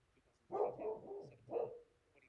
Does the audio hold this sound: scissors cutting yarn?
no